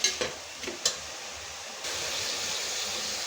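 Chicken fried dry with salt in a pan for a country-style chicken kurma, giving a steady close sizzle with a few stirring scrapes at the start.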